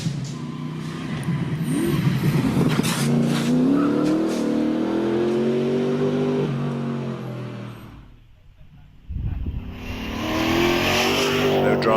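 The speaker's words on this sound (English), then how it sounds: "Mike Luck in the TVR Chimera." TVR Chimera climbing the Prescott hillclimb course, its engine loud and close with rising revs through gear changes, a brief dip in sound, then the roar returning as the car pulls away.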